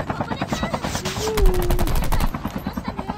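Rapid automatic gunfire from Call of Duty Mobile crackles in steady bursts, loud and close, with a denser volley in the middle and rhythmic shots continuing to the end.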